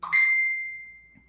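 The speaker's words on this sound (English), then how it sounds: "Ding, my phone just agreed with me." A phone notification chime: a single bright ding that rings clearly and fades slowly over about a second, alone with no talk.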